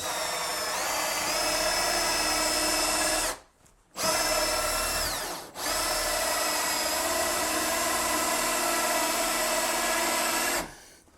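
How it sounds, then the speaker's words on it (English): A power drill bores through a wooden door to fit a smart lock, a loud, high whining grind held for long stretches with two short pauses, close up and without talk. "now we're going to go from this side, drill the other half"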